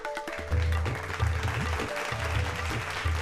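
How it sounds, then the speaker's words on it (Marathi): Applause from an audience at a village felicitation ceremony honouring a well-known local social worker, a dense crackle of clapping over a steady low musical beat throughout. "टाळ्या."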